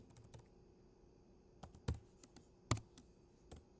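Faint, irregular keyboard typing with scattered soft clicks and a couple of louder key strikes, in a quiet room with no voices.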